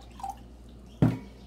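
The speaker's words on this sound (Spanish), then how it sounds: "Voy a poner vainilla" Vanilla is poured into a sugar and water mixture, making a faint drip followed by a single short, soft liquid plop, with no talking.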